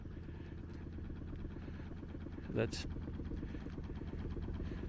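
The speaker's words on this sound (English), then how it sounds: "I do like the pitter-patter of the engine idling" A fishing boat engine idling in the harbour at Novigrad, Zadar County, Croatia: a soft, steady low pitter-patter of rhythmic beats from some distance, with someone speaking briefly over it.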